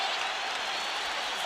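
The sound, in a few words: boxing crowd cheering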